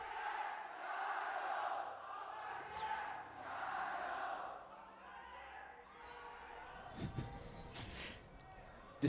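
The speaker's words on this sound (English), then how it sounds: "I love that it was not one chant leader there for RNG. It was the entire crowd." An arena crowd at an LPL Summer Split esports match chants for team RNG, the whole audience rising and falling in loud rhythmic waves, with a commentator's voice and clinks near the end.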